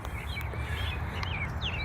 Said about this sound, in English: So I hear you got a bunch of birds around you.